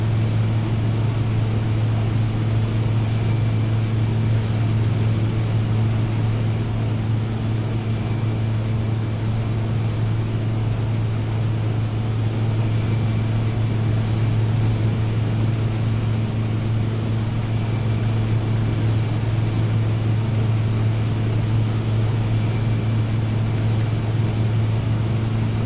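DHC-3T Turbo Otter floatplane in flight descending into a canyon, its turbine engine and propeller a loud, steady droning hum with a strong low tone, continuous and unbroken throughout with no voices.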